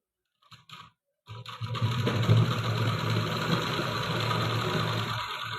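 A sewing machine stitches a salwar seam, starting after a few short clicks and then running in a steady, fast, close whir that continues to the end with no talking.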